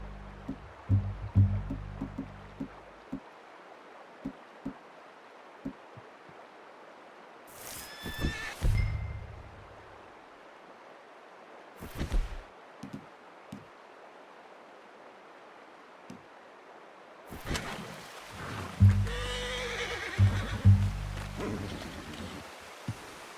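A horse whinnies loudly twice in the video game Red Dead Redemption 2, with a quieter snort in between, over a low rumbling backdrop and soft thuds.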